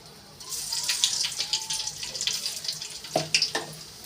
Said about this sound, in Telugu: ఇంకా పోపు విత్తనాలు వేస్తున్నా.